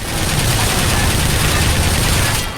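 Rapid automatic gunfire from a weapon emptying a clip in the video game BioShock Infinite: Burial at Sea, a dense continuous burst lasting over two seconds before cutting off abruptly, with a low rumble underneath.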